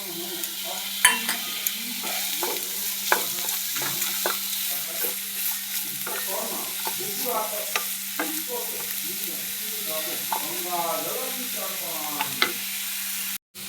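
Peanuts, grated coconut and the scooped-out pulp and side trimmings of pointed gourd are stirred and fried in a pan, with steady sizzling under repeated scraping strokes of a spatula, close and continuous, with a constant low hum behind.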